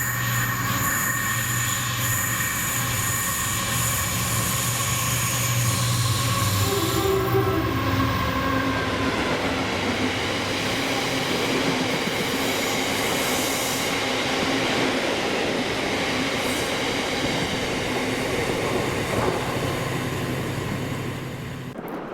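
Freight train 6M86, the Aberdeen to Workington service in Scotland, hauled by locomotive 7801, passing close with a loud engine rumble, a horn-like tonal blast, squealing wheels and a long rattling wagon roar that slowly fades.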